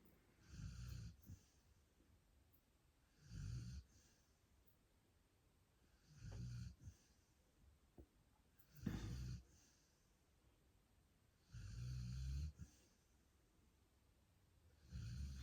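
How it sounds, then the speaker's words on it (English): Someone nearby snores in a slow, regular rhythm, with about six deep rasping breaths spaced a few seconds apart and quiet gaps between them, and no talking. "Oh, it's very distracting with the snoring."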